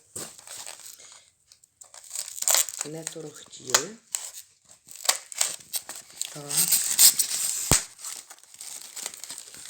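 Crinkly tearing and rustling of tape and wrapping close up as a package of paper-wrapped hatching eggs is opened, in bursts, with a voice talking over parts of it.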